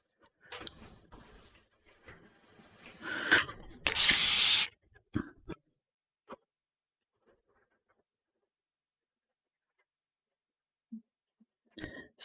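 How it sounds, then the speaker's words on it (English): Spray bottle misting water over an acrylic paint palette during a painting session, a short burst of hissing spray in the middle, with faint brush and handling sounds before and near-silence after. "Spraying my palette just helps it keep wet here."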